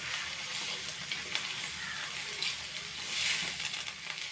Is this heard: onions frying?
yes